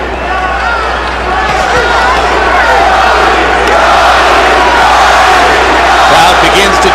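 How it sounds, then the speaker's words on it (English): A boxing arena crowd at the Arturo Gatti vs. James Leija fight roars and chants loudly and continuously, a dense wall of many voices that swells slightly over several seconds. "Crowd begins to chant immediately for the love of their lives."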